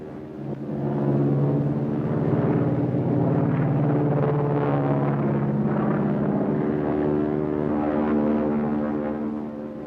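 A propeller airplane engine drones steadily in flight, a loud continuous hum with a low pitch that fades in at the start and holds evenly throughout, with no talking.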